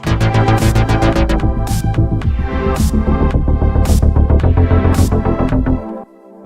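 A compact analog synthesizer plays a loud, dense, pulsing bass patch in a rapid sequenced pattern with sharp percussive hits on top, running steadily for about six seconds before cutting off abruptly.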